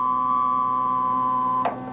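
Computer-synthesized steady tone built from stacked harmonics, a sustained buzzy drone at moderate level that changes timbre near the end as harmonics are brought in, heard alone.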